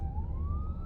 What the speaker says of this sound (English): got a little ambulance.